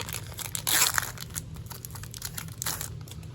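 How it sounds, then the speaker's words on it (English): A Pokémon card booster pack from an Arceus Premium Collection box is cut open, giving close, crisp crinkling of the foil wrapper in short bursts. "I'm going to cut the cards whenever I'm cutting these packs open."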